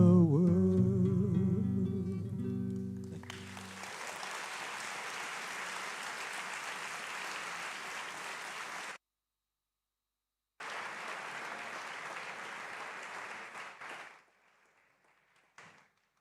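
An audience at a freedom-themed commemorative event applauds in a dense, sustained burst that breaks off briefly, resumes and then fades out, with music audible just before the clapping begins.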